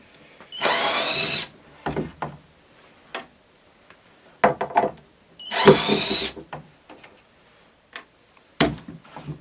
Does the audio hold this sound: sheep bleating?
no